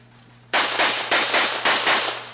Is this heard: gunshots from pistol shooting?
yes